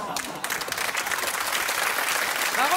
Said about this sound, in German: Warum wird hier geklatscht?